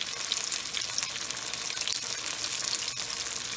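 Pickles coated in Hot Cheetos fry in a pan of oil, giving a steady bright crackling sizzle, close and even throughout with small pops and no talking.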